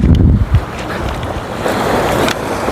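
Big ocean waves and strong wind buffeting at sea near a cruise ship, loud and close, with a heavy surge of water early on and constant wind rumble throughout, no talking.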